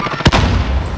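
A grenade detonates in the video game Warzone: one sharp, loud blast followed by a rumbling low tail that fades over the next second, with faint game ambience underneath.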